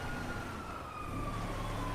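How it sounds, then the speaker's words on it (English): A faint police siren wails steadily in the distance in the video game Grand Theft Auto, sliding slowly in pitch over a low engine rumble. "I hear the sirens. I don't see them."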